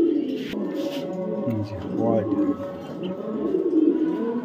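Blue pied pigeons coo in soft low burbles close by, running continuously beneath someone talking.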